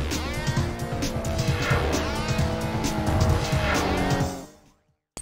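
Race car in Project Gotham Racing 2 on a track, with a loud engine revving and squealing tires through a corner, steady and close before cutting out near the end.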